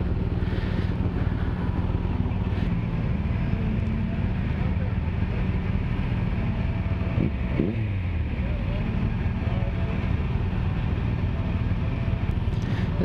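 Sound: BMW motorcycles riding in a group

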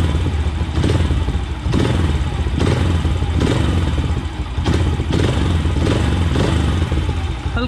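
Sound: motorcycle engine revved with throttle after carburetor mixture adjustment

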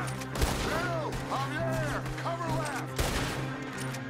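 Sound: gunfire in Red Dead Redemption 2 video game

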